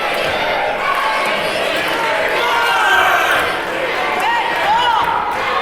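A wrestling arena crowd roars and cheers in a steady, loud wash of voices, with a commentator talking over it.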